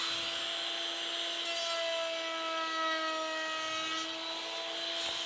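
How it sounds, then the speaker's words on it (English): Lumber being cut across its end grain with a power saw guided by an INCRA Wonder Fence, a steady continuous whine with strong tonal hum and bright grinding hiss, loud and close throughout. "Cut the end grain first."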